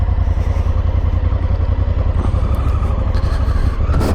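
Motorcycle riding along roads in the Mecklenburg Lake District, a steady loud engine drone with rumbling low pulses throughout, close and continuous, with some wind and road scraping noise layered on top.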